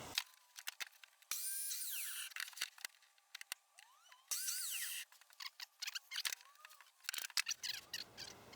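Power tool cutting into wood with the depth gauge set to 3/4 inch for a shed extension door, heard as two loud sustained bursts of whining cutting separated by clicks, knocks and handling noises.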